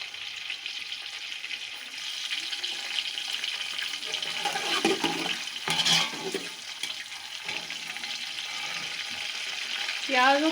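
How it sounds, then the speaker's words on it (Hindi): Two medium onions frying in hot oil in a pot for Kabuli pulao, a continuous close sizzle with occasional stirring scrapes and a brief clatter, steady throughout. "प्याज हमने फ्राई होने के लिए रख दी हैं।"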